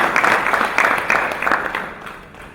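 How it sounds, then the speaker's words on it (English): Audience at an alumni conference claps in a moderate burst, a fairly dense round of applause that fades away over the last second. "Round of applause for what was the issue."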